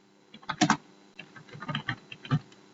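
Someone types notes into a document on a computer keyboard, producing close, irregular bursts of clicking keystrokes separated by short pauses, with no talking.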